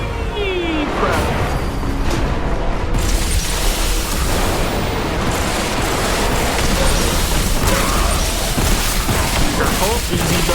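Grenade blast and heavy combat noise in the Warhammer 40K Boltgun video game, a dense continuous roar of booms and bursts with gunfire texture throughout, loud and close, with a voice speaking over it.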